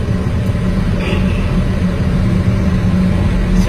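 Steady drone of a 2006 Chevrolet Silverado 2500 truck engine while driving, a constant low rumble with road noise heard from inside the cab, no talking.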